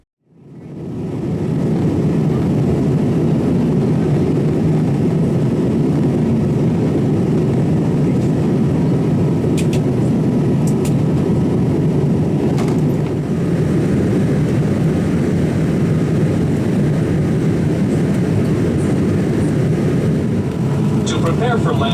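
Inside the cabin of an American Airlines Boeing 787-9 approaching Chicago, a steady, loud low engine and airflow roar fills the space, constant throughout, with a few faint clicks over it.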